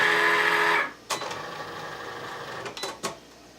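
A Cricut cutting machine scoring a card runs with a whirring motor hum, then shifts to quieter carriage movement punctuated by a few sharp clicks and clacks, close and clear.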